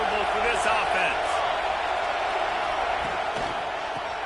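A stadium crowd roars in the College Football 26 video game during a Michigan home game against Texas A&M, a dense, loud, steady wash of noise with faint voices inside it.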